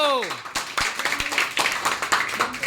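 A group claps loudly for a contestant at a balloon-and-cup party game, a dense burst of close applause mixed with voices.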